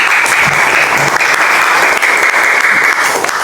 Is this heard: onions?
no